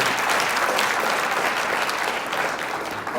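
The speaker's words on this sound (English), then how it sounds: "Come on, give them applause." A church congregation applauds bail bond partners Free at Last Bail Bonds, a steady, full burst of many hands clapping together throughout, with no voices over it.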